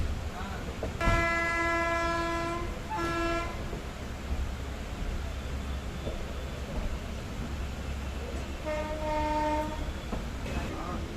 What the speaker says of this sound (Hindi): बिल्कुल सेम टू सेम एक पैसेंजर ट्रेन की तरह इस सेक्शन पर ये ट्रैवल कर रही है।